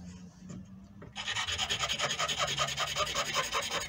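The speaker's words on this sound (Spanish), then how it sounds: "con una piedrecita, arreglan cualquier filo que tenga demasiadas facetas" Quick rhythmic rasping of a small sharpening stone rubbed across a lathe tool edge, a close repeated scraping stroke after a quieter opening.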